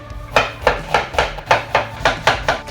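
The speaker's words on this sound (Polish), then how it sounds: "To ja będę kroił cebulę." An onion is chopped with a knife on a board, eight or nine sharp, evenly spaced knocks in a steady rhythm, close and loud with no talking.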